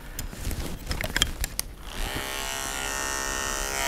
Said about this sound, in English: I'm gonna start my clipper over comb process to blend the short hair into the longer hair